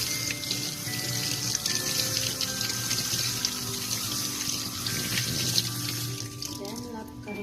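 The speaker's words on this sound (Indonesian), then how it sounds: "kemudian bila si air mengalir" Tap water runs steadily into a sink during handwashing, a close, continuous splashing hiss that carries through the whole stretch and thins out near the end.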